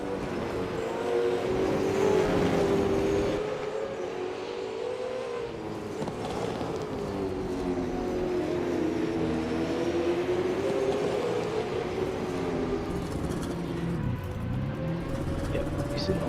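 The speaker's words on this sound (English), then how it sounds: "So I can hear the car in pit lane" A Super 2 Series race car idles and accelerates through the pit lane at a street circuit, its engine drone steadily rising and falling in pitch for several seconds, with commentators talking over it.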